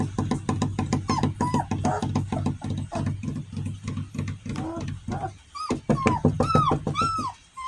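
Three-week-old puppies whimper and yip in a box, a close, continuous stream of high rhythmic cries from several pups, with a brief quieter gap partway through.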